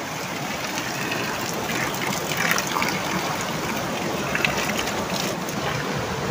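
Drinking water runs and splashes steadily close by in a village during heavy rain, a continuous gushing flow with slight surges, no voices.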